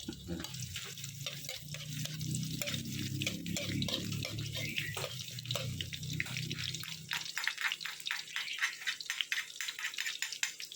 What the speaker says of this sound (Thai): ตอนนี้เขาจะเริ่มคั่วแล้วนะครับ คั่วพริกก่อน ตั้งน้ำมันก่อน